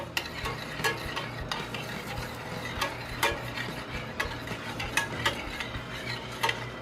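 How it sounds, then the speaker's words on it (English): A spoon stirs brown sugar in a pan until it dissolves, a sweet glaze for baby back ribs, with scattered light scrapes and clicks over a steady low background hum; no one speaks. "Get our brown sugar dissolved in there."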